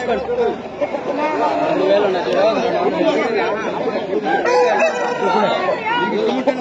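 Roosters crow repeatedly amid clucking poultry and a busy crowd at the Pileru Sunday pet market, the rising calls cutting through constant chatter from people nearby.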